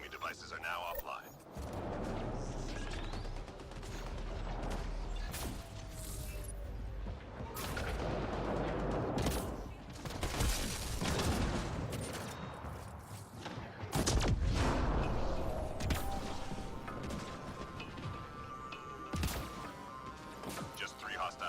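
Rapid gunfire and heavy crashing impacts from a multiplayer firefight in Mass Effect Andromeda, with a Human Soldier in action, keep up loud and dense throughout, with voices calling out over the battle.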